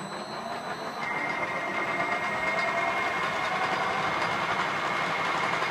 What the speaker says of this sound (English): Got it set for about 10 seconds spool up time on the VFD